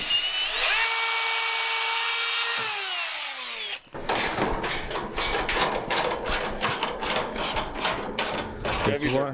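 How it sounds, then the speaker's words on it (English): A power drill whines as it spins up and slows, then a rapid series of rattling, grinding bursts as the bit bites through a metal engine tab, close by. "Just drilling a hole into a tab that sticks out on these engines"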